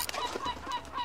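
A seagull squawks in the video game Captain Bones during a fishing minigame, a few loud, close honking calls in quick succession.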